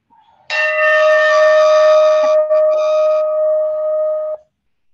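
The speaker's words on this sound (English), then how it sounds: "Ring the bell. See that sound, how much effect it creates." A temple bell rings loudly and close, one sustained clang that hums for about two seconds, then a second strike that rings on before cutting off.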